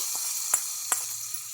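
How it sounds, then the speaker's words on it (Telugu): Hot tempering (popu) poured into a bowl of chutney, giving a steady, bright sizzle close by with a couple of small splashy bursts as it hits, alone without talk. "ఆ పోపును కూడా ఈ చట్నీలోకి వేసుకోవాలి"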